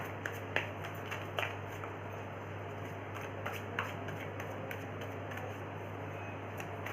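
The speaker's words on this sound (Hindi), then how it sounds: "मैं कार्ड को शफल कर लेती हूँ।" Tarot cards shuffled by hand, giving a steady run of soft papery riffles and light flicks against a constant low hum, fairly quiet and close with no talking.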